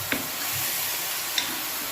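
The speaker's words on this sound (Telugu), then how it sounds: "బాగా కడిగి శుభ్రంగా పెట్టుకున్న మటన్ని ఇలా పోపులో వేసుకొని" Mutton pieces dropped into a hot tempering and stirred, giving a steady close sizzle with a couple of sharp clinks of the spoon against the pan.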